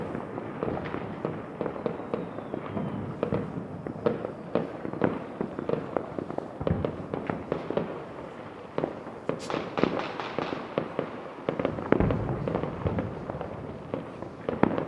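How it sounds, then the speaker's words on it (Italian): New Year's Eve fireworks and firecrackers over Lamezia Terme, Italy, a dense continuous crackle of scattered pops and bangs, some near and some distant, with no speech. "Pochissimi fuochi, pochissimi fuochi. A salutare il 2013."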